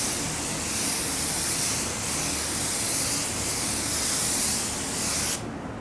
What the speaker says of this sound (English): let's go ahead and start spraying it on